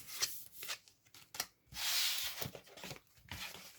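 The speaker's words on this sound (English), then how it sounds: "Let's have a good old shuffle." Tarot cards are shuffled close by in rapid riffling bursts, with a longer sweeping rustle in the middle and softer flicks around it.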